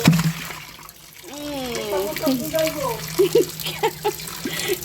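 Splashing water as a live snakehead fish thrashes in a container, irregular bursts close by with a voice talking over them.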